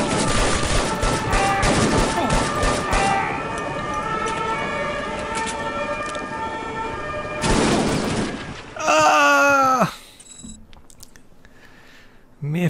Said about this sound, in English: If I heard this many gunshots and had this many flashbangs going on